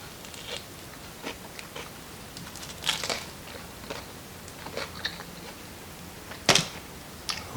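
Someone biting into a cone with a sweet shell and salty meat filling, giving scattered crisp crunches and chewing noises at irregular intervals, one louder crunch near the end, in a quiet room.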